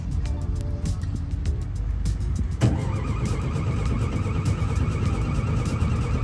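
An amphibious military vehicle derived from the original Beetle, with a flat horizontally opposed engine, cranks repeatedly with a rhythmic whirring, then catches briefly into a rough running tone without settling, close and clear.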